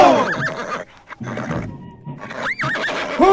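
Horses neigh and whinny in a radio drama, several loud whinnies rising and falling over a scene with hooves and commotion, close and prominent.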